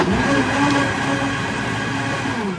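A kitchen blender blends limes and water, its motor droning loudly and steadily throughout without any break.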